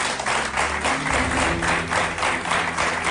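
A studio audience on a television talk show applauds its three guests, a doctor, a psychologist and a spiritist among them, in steady, moderately loud clapping with a low musical hum underneath.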